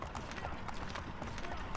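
A horse gallops in Assassin's Creed 3, its hooves beating in a quick, regular clip-clop rhythm, fairly faint under people talking.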